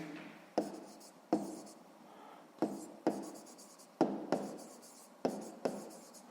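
Pen writing numbers on paper during a sixth-grade math exercise: scratchy strokes come in repeated bursts with sharp starts and brief pauses, close and fairly quiet, with no talking.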